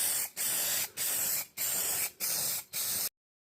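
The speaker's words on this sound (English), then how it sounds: "Now that the paint has been removed in places I wanted it to, it's time for the clear coat." Spray can bursts coating an old motor lamp base with clear coat: five even hissing sprays of about half a second each, separated by short pauses, then silence.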